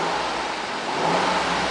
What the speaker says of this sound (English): Alright, so I'm going to rev it now, so keep an eye on this dial right here.